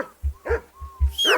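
A dog barks in Kingdom Come Deliverance II, four short, close barks in quick succession with whimpering tones between them and no talk.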